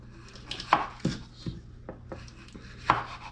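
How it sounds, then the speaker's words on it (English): A knife slices bell peppers thinly on a cutting board, giving about seven or eight crisp, uneven chops heard up close with no talking. "Now we're going to take the peppers and slice them nice."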